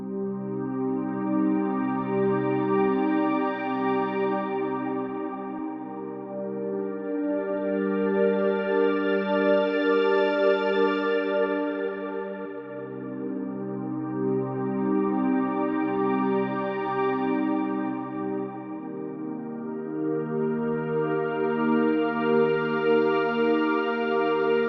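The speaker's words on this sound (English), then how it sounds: "we end up with this beautiful digital style ambient pad that sounds like this" Arturia Pigments wavetable synth playing a lush digital ambient pad, sustained chords slowly swelling and shifting with bright shimmering upper harmonics, steady and loud throughout with no voices.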